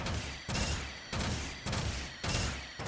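Bursts of mech gunfire in the video game Gundam Evolution, fired in five sustained volleys of roughly half a second each with short gaps between, loud and close with no talk over them.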